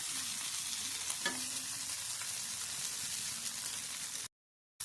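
Fish fries Mangalore style in a pan, turned over as it roasts, giving a steady, close sizzle and crackle with a brief scrape partway through before the sound cuts off.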